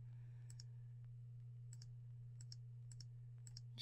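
A computer mouse clicks in a quiet room while snow is added to an image in GIMP. The sharp double clicks repeat about six times at uneven intervals over a low steady electrical hum.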